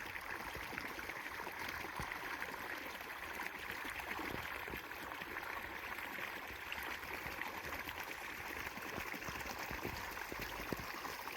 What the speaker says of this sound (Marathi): जणू काही धबधबाच असं वाटतंय बघा.